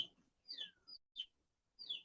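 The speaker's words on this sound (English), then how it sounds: "Come on, stop chirping." Small bird chirping indoors, a few short high tweets in bursts separated by brief pauses, faint and close with no voices.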